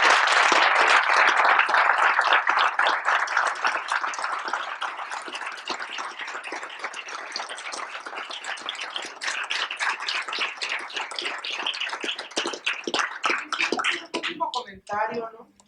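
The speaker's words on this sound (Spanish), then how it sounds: "Les pido un caluroso aplauso" Students give warm applause to Holocaust survivor Isaak Kotkowski after his talk, loud dense clapping that gradually thins into scattered claps before a voice starts speaking at the end.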